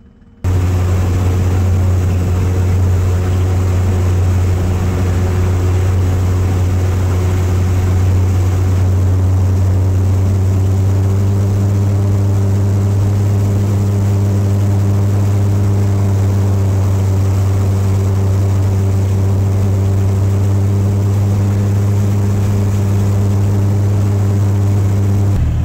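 A Jabiru 3300 engine runs on a Zenith 601 light aircraft fitted with a Rotec Aerosport LCH kit, giving a loud, steady propeller drone that holds at a constant pitch from start to finish.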